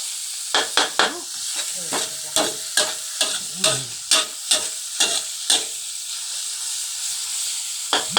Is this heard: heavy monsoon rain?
no